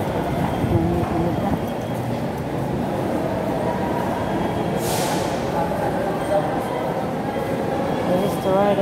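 An LRT light-rail train heading to Pasay in the Philippines rumbles steadily along the track, with a constant low roar, faint rattling and murmuring voices in the carriage.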